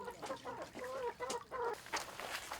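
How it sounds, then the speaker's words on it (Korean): Chickens cluck and chatter in a village coop beside a shared community garden, a steady run of close, overlapping hen calls with no talk over them. "마을 공동 텃밭에는 닭장이 있는데요."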